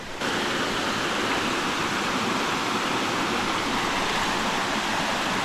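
Water flowing along a channel in a Konkan jungle, a steady, even rush of broadband noise heard alone at moderate level.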